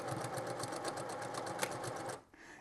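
A sewing machine stitches through the mesh fabric of a travel shave bag in a fast, even run of close needle taps, then stops abruptly near the end.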